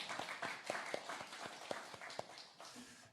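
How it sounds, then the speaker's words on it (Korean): A small audience at a church gathering gives a short, faint round of clapping, a few scattered claps heard from a distance over a quiet room. "박수 한번 보내드릴까요?"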